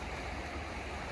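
Sea waves wash steadily as a soft, constant broadband rush, faint and continuous with no distinct breaks, heard alone.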